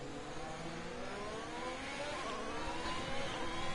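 F1 car engine in a Formula 1 video game, a sustained high-pitched racing whine that climbs steadily in pitch as the car pulls away under DRS, loud and continuous with no talking.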